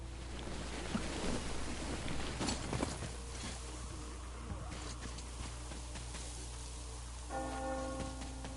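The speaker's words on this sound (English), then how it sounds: "You hear that bell?" A church bell rings out in the Metro video game, struck in a few clear tones toward the end over a steady bed of rain-like noise and low ambient rumble.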